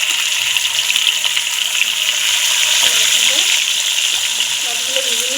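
Fish fries in hot oil in a home kitchen, giving a steady, close bubbling sizzle with a watery, rushing texture throughout.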